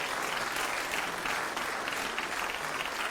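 An audience at an ethical investment awards ceremony breaks into warm, continuous applause, many hands clapping at moderate distance in a steady wash with no talking over it.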